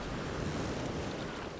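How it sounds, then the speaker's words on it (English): Rough sea in a raging squall, a broad steady roar of surf and gusting wind that fills the whole moment, moderately loud and without any voice. "the wind was howling something fierce"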